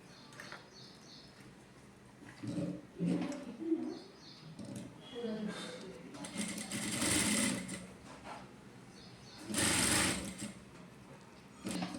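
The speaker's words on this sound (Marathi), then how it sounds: "तर बघा, आता मी बंद शिवून घेते." A home sewing machine stitches a fabric strap for a phone pouch in short quiet bursts of rapid needle chatter, with pauses between runs and a bird cooing faintly in the background.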